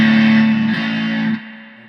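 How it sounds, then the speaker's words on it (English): Loud, buzzy distorted bass tone from a Traynor TS-50B-style solid-state preamp pedal sustaining, then dropping to a lower, quieter note near the end. "really captures that Traynor solid state distortion madness"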